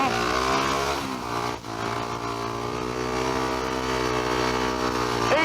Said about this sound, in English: On the heavy gate, you just got to wind her up quite a bit and just drop the clutch, not feed it out at all.